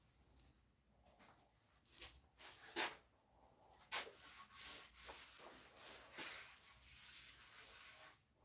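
A wooden cabinet door is hand-sanded with fine 220 grit sandpaper in soft, irregular scratchy strokes, close but quiet, with brief pauses between passes.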